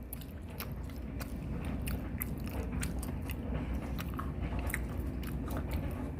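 Tteokbokki is eaten up close, with repeated wet chewing and biting sounds over a steady low background. Soft, moist mouth noises recur through the whole stretch, and nobody speaks.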